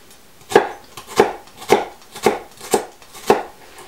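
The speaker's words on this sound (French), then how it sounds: "Pour cela, je l'émince mais sans aller jusqu'au bout." A knife cuts through a red onion on a board in six even, crisp strokes about half a second apart, each landing with a clear knock on the wood; no voices.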